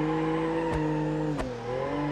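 JBX 100 drifting around a parking garage in BeamNG, a steady strained engine drone with sliding tire squeal held throughout, broken by two sharp shifts or kicks near the middle, no talking.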